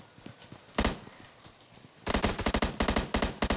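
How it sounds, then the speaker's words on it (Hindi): Sharp gunshots in a video game crack out, first a few scattered shots, then rapid bursts of automatic fire from an M16, loud and close, with no talking. "गन शॉट के आवाज़ इतने आ रहे थे"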